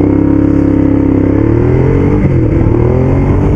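A Ducati Diavel Black Carbon motorcycle pulls hard under acceleration, its engine note loud and close with a steady, rising roar and harmonic drone that shifts pitch midway as it gains speed.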